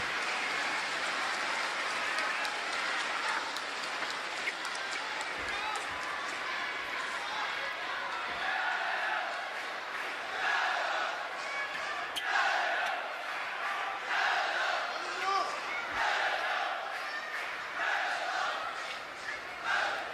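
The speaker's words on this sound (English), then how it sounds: "You kind of hear hands are being clapped by delegation of PLA supporting Fan Zhendong here today in the venue." A PLA delegation claps in support of Fan Zhendong at a table tennis venue during his 2017 China National Games final against Ma Long, steady crowd applause heard from a distance beneath ongoing commentary.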